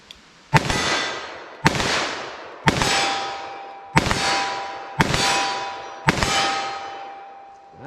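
Six loud, evenly spaced .357 Magnum revolver shots crack at close range, each one a sharp report followed by a ringing metallic decay, with no talk over them.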